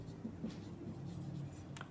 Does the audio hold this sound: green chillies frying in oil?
no